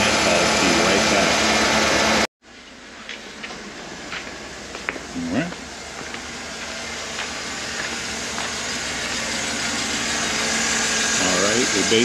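A car engine idles steadily while its alternator is being checked, a low continuous hum that keeps going after a brief cut. A voice is heard at the start.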